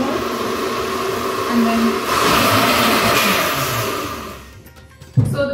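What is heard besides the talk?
blender grinding soaked mung beans with water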